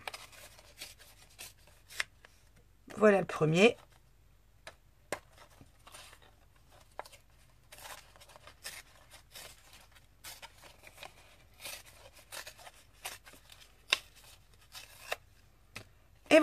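A sheet of paper is torn by hand along a diagonal in one short, crisp rip, followed by faint scattered rustles and handling noises while a voice briefly speaks.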